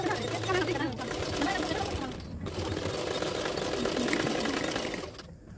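A sewing machine runs in steady bursts while stitching a blouse's back neck lining, close and continuous, pausing briefly twice, with a voice speaking over it.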